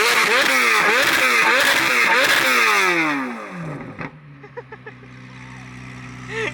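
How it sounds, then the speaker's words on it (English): A supercharged V10 supercar at a car show revs hard with rising and falling engine sweeps, loud and close, then drops to a lower idle with a few short blips. "They're gonna make Tommy rev his car"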